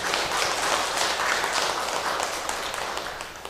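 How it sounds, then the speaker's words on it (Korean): Church congregation applauding a recovered elder during a Sunday service, a dense, steady wash of many hands clapping throughout, fairly loud and continuous with no talk over it. "우리 앞으로 더 건강하시도록 박수로 한번 격려하십시다."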